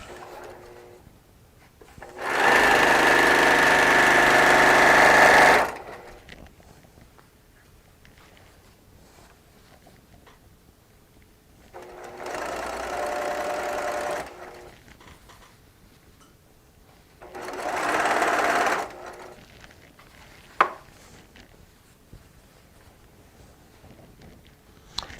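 A sewing machine stitches quilt seams from Tula Pink charm and strip blocks in three separate runs: one long, steady burst followed by two shorter ones, with quiet pauses between and no talking.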